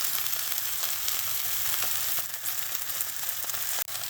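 Vietnamese bánh xèo crepe frying in a pan over medium heat with bean sprouts, its edges turning crisp; a steady, close, dense sizzle runs throughout with no talk.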